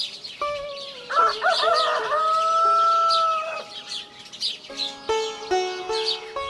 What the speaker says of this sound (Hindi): चिड़ियों के कलरव से वातावरण में मिश्री घुल रही थी